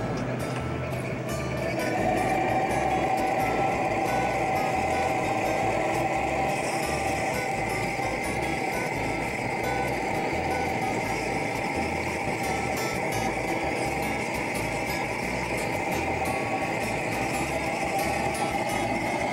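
An old tractor engine idling after being started, a steady low rhythmic thumping chug that holds evenly throughout, fairly close, with faint background noise and no clear talk.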